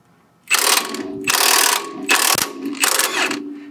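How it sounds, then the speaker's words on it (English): Impact wrench with a 30 mm socket rattling off a front shock nut on a 2004-2008 Ford F150, four loud close bursts of buzzing hammering with brief pauses between them, no talking. "get your 30 mil socket on your impact"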